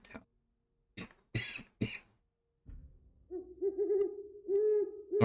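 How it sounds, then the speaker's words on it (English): A few sharp, separate coughs sound up close in a quiet room, followed by a low, steady hooting tone. "Sorry for all the coughing."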